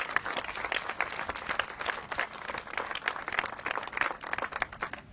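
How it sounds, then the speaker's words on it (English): Audience at an animal shelter opening clapping in a dense, sustained round of applause, steady and fairly close throughout, with no voices standing out. "Let's give them a big round of applause."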